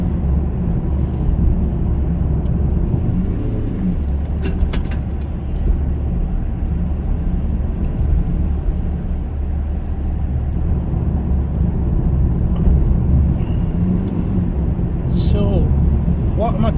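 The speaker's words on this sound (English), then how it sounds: "that's just me putting my foot down in fourth gear" A car with a faulty, slipping clutch accelerates hard in fourth gear, its engine making a loud, steady low drone that rumbles on without a break.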